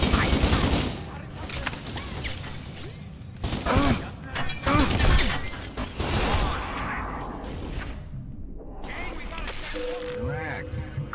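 Gunfire in the video game Kane and Lynch: Dead Men, dense rattling bursts of automatic fire and booming shots under a loud, cluttered battle din, with voices shouting through it.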